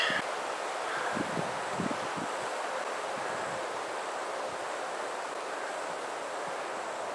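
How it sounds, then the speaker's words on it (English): Strong gusts blow through foliage outdoors in a wooded preserve, a broad, steady rushing hiss of wind and rustling leaves with a few faint knocks early on. "The wind is really kicking up."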